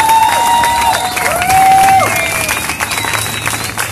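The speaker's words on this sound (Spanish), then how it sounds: "Un aplauso súper fuerte para ellas." Crowd clapping and cheering for local artists at a concert in Saltillo, Coahuila, a steady loud roar of applause with a few whistles or shouts rising above it.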